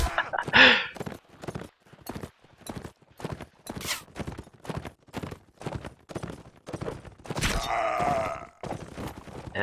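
Horse hooves beat a steady, evenly spaced clip-clop during a video game battle between Blood Ravens and Knights of Malta, fairly quiet, with a brief louder groaning burst near the end.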